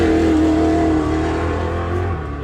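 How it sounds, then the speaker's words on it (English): An off-road race truck engine at an enduro in Waikerie, Riverland, roars loudly and steadily, with a sustained rev that dips slightly near the end, close and dominant without talk. "There's Vanderwood across the line in the truck."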